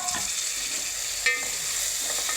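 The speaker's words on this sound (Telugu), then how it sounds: "ఇప్పుడు టమాటా ముక్కలు వేసి" Tomato pieces for tomato onion upma hit a hot pan and sizzle with a steady hiss, with a brief clink of stirring partway through; no one speaks.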